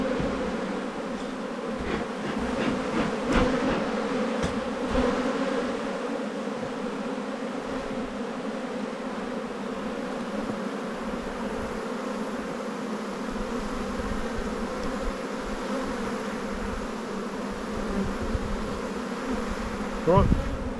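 Honey bees from a large spring colony buzzing in an open hive during an inspection, a dense steady hum close by with occasional nearer passes and small handling sounds.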